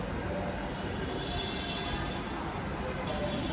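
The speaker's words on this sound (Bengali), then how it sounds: "আমাদের ট্রেন এসে গেছে।" A metro train pulls into a station platform, a dense rumbling roar with faint metallic wheel squeal, steady and close for a few seconds.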